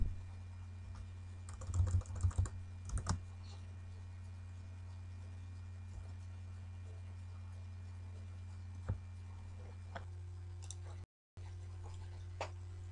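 Computer keyboard typing during a networking configuration tutorial, with a few bursts of quick keystrokes and isolated taps over a steady electrical hum, fairly close and moderately quiet, no talking.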